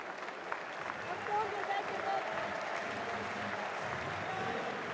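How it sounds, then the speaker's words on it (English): Crowd noise at a German third-division football match between Borussia Dortmund II and SC Freiburg II as the teams walk onto the pitch, a steady, moderately distant roar and clapping with some speech over it. "You can hear the crowd there as the teams come out onto the pitch."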